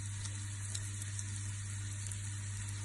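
A poultry roll browning in a pan gives a faint, steady sizzle with soft crackles over a low constant hum, and no one speaks.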